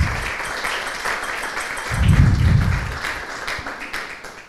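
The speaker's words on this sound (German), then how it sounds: "ein kleiner Applaus für unsere 4 Gäste" Audience at a German journalism panel event applauds its four guests, a steady patter of clapping from a modest room that holds level, then thins out toward the end.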